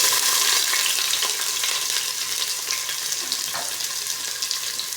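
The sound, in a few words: onion frying in a pan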